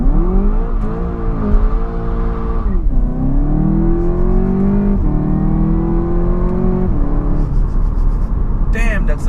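A 2015 Seat Leon Cupra 280 ST launches with heavy wheel spin, its engine loud and close, revs rising and dipping through the pull with faint tyre noise near the end.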